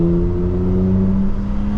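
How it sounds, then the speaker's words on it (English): A 2024 BMW M4 Competition's engine drones steadily from inside the cabin while driving, a loud, constant low hum with sustained tonal whine and no voices. "It's all engine noise."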